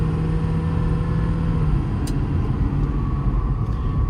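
A 2021 Ford F550 service truck with a 10-speed automatic drives along, its engine giving a steady, moderate rumble heard from inside the cab, with no talking.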